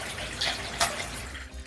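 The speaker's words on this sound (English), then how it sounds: "How nice is that? A water feature." Steady flowing water from a backyard water feature splashes softly nearby, a continuous gentle rush with no voices.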